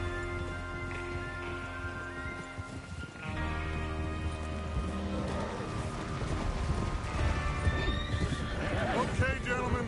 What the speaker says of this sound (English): Get your horses ready.